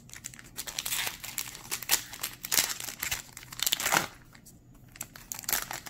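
A Yu-Gi-Oh trading card booster pack from Battles of Legends: Armageddon being torn open, with close, loud crinkling and tearing of the foil wrapper in irregular bursts and no talking.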